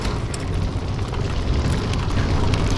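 Fire trap roaring in the video game Crystal Rift, a steady loud rumbling whoosh of flames that holds for about three seconds with small crackling flickers and no talk.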